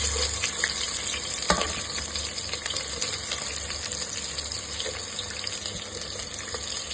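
Chopped onions sizzle in hot oil with old garam masala and a bay leaf for Telangana bagara rice. A steady, close hiss runs throughout, with a few soft stirring knocks.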